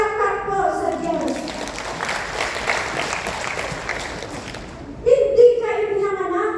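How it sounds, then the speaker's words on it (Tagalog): A Sunday service congregation claps in a full, sustained round of applause, rising after a preacher's voice fades and tapering off as he starts talking again. "Palakpak po sa Diyos."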